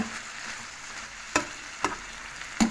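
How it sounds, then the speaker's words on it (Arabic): Shrimp sizzle steadily in a hot pan while being fried for a fish pastilla, with a few sharp stirring clicks breaking through the close, even hiss. "الكروفيت ها هو كيتقلى"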